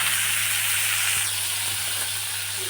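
Asafoetida, onion and tomato frying in hot oil for a pea and potato curry, giving a steady, close hiss of sizzling that continues evenly throughout with no voices.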